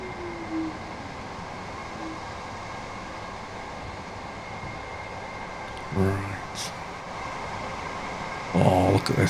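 A train in the Train Sim World game on the East Coastway route gives a steady, loud rolling rumble with a hum, and brief clanks and rattles near the end.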